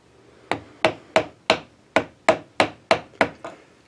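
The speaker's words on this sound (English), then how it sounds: "the trick here is to chisel that down to as close as you dare to the surface of the wood" Nine evenly spaced sharp taps of a mallet on a chisel cutting into a pine doorway, crisp and close with a woody ring, each decaying quickly before the next strike.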